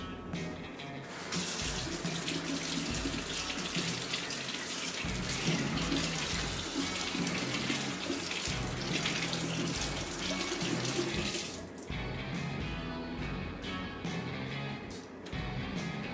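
Tap water running hard into a sink while three tomatoes are washed for gazpacho, a loud continuous splashing rush that cuts off near the end, leaving a few drips and light handling sounds.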